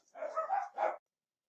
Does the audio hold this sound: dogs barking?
yes